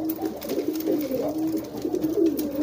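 Domestic racing pigeons, a newly paired couple, cooing in courtship with a steady low rolling coo that runs continuously and close up through the whole stretch.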